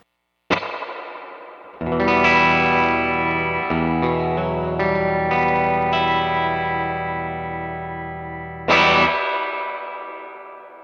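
An electric guitar through a Universal Audio spring reverb pedal voiced like a 1968 Silverface Super Reverb amp, with a single struck note, then sustained chords ringing with long smooth reverb tails, and a final strum fading out, close and loud with no talk.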